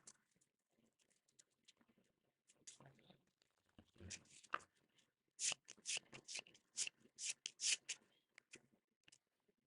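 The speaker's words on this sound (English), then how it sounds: "we'll shuffle up the convention deck." Board game cards from the convention deck shuffled by hand on a table, a run of crisp riffling bursts following quieter handling and card rustling.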